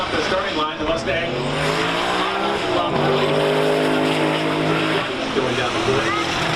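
A Ford Mustang launches hard off a drag strip starting line, its engine note climbing through a loud, sustained rising roar with a brief tire-squeal edge, close and steady under a commentator's voice.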